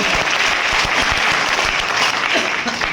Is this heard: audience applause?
yes